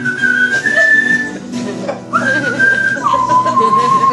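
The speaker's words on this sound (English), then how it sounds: "Well, I whistled for a cab" A person whistles loudly for a cab, sustained pitched notes that glide and shift in tone over busy background sound.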